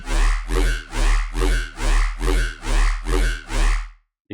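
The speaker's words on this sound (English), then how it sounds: "You can hear you're really getting that like seesaw effect now." A Malstrom synth in Reason, its sweep set to a 2/4 rate with delay, pulses in eight even swelling bursts that rise and fall in a rocking seesaw pattern, loud and alone before cutting off.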